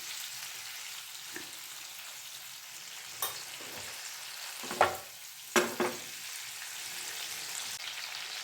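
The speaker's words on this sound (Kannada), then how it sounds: "ಟೊಮೆಟೊ ಚೆನ್ನಾಗಿ ಫ್ರೈ ಆಗಲಿ" Tomatoes fry in a pan for a paneer capsicum gravy, giving a soft, steady sizzle with a few louder spatters and stirring clatters near the middle.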